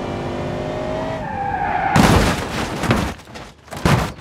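A Rolls-Royce skids in a game, with a rising tonal engine whine that gives way to a loud, harsh burst of tire scraping and crashing noise, with bangs and rattles after it.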